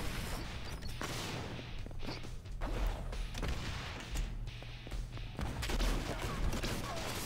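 Repeated shotgun blasts and crashing impacts in the driving zombie game Earn to Die Rogue, a dense run of sharp bangs and smashes with mechanical clatter, fairly quiet and without talk.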